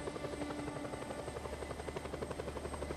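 A helicopter in the video game Just Cause 2 flies with a steady, rapid rotor chop over a constant engine whine, loud and continuous throughout with no talking.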